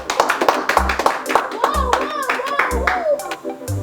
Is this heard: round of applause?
yes